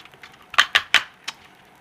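Plastic arms of a Leon Kaiser Brave of Gold Goldran transforming toy folding out, giving a short run of crisp, close clicks: a few faint ticks, then three sharp snaps in quick succession and a lighter final click.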